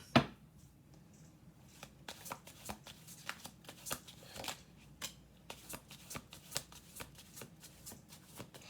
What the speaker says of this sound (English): we are going to do one more shuffle